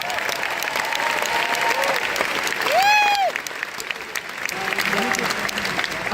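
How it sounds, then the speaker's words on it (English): A crowd at the Rock and Roll Hall of Fame induction for Bad Company applauds steadily, with dense clapping throughout, a few shouts and whoops rising above it, and a brief loud swell in the middle. "I want you to give them a round of applause"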